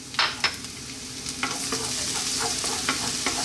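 Garlic sautéing in hot cooking oil for a vegetable tomato pasta, a steady close sizzle with a few sharp crackling pops near the start and scattered spits throughout, no talking.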